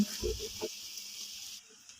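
Yardlong beans frying in a pan for fried rice give a soft, steady sizzle and hiss, quiet and continuous, with a couple of low clanks near the start.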